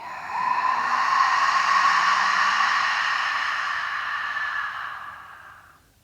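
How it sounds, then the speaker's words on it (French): A long, audible exhale through an open mouth during a vinyasa yoga session, rising quickly and then fading smoothly over several seconds, close and alone without talk. "Ouvrir la bouche et expire et souffler."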